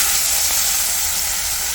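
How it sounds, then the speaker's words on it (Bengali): Eggplant coated in salt and turmeric frying in hot oil, a loud, steady, close sizzle with a bright hiss that holds without a break. "তেলটা গরম হয়ে গেছে, লবণ হলুদ মাখানো বেগুনটা দিয়ে দিলাম ভাজতে জন্য।"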